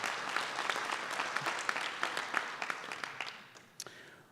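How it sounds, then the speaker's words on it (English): Convention hall audience applauding for a union gathering, a dense crowd of clapping that swells early and then gradually thins and fades out over about four seconds. "you can clap if you want to"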